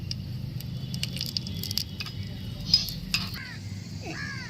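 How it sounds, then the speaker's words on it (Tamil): Raisins and other ingredients roasting in a miniature pan for milk payasam: light spoon clinks and scrapes against the tiny pan over a steady low hiss and hum, quiet and close. "இப்போ நம்ம நல்லா வறுத்தரலாம். கொஞ்ச நேரம் வறுக்கணும்."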